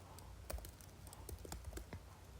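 Soft, quick keystrokes on a computer keyboard while entering a command in RStudio, a handful of light clicks in an irregular rhythm against a quiet hum.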